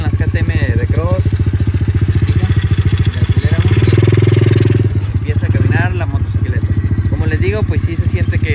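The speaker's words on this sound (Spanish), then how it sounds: "El motor se escucha bien por el hecho de que sea 110, y el tipo de escape que trae, pues se escucha como una DM" Engine of a 110cc mini cross motorcycle running close by, a rapid chugging putter that swells as it revs, with someone talking over it throughout.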